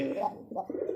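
Brief close cooing from a male Rajgolla pigeon, two short low throaty notes in quick succession.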